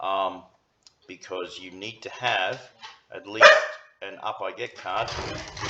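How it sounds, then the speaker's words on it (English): A dog barks once sharply in the background while a person keeps talking, the bark briefly louder than the voice. "Sorry, that was my dog."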